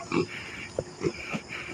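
Two young piglets grunting in short, close bursts, several low oinks spaced irregularly over a faint background, with no talking.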